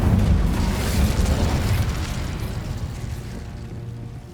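A fire spell cast in Hogwarts Legacy erupts as a loud, broad whooshing burst that holds steady for a few seconds before slowly fading, with no voices over it.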